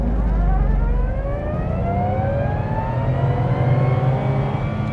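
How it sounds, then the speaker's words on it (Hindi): 2024 Nissan Magnite AMT accelerating in reverse gear toward top speed, its engine and reverse-gear whine rising steadily in pitch over several seconds, loud and continuous from inside the car with no talking. "अब टेस्ट करते हैं कि रिवर्स गियर के अंदर गाड़ी जो है उसकी टॉप स्पीड क्या है।"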